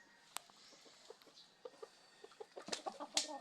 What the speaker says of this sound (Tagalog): Tapos ito naman yung mga chicken na manok